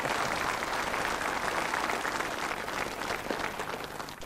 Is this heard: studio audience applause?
yes